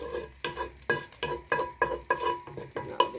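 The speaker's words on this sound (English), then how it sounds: "I'm just going to fry our onion off." Onion frying in hot oil, with regular scraping stirs every half second or so over a soft, steady sizzle, close and fairly loud, no talking.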